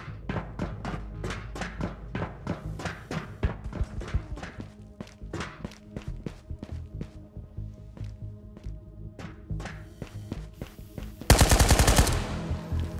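Irregular bursts of automatic and single gunshots in the VR shooter Ghosts of Tabor, crisp nearby reports with echoing tails, ending in a dense, loud burst near the finish.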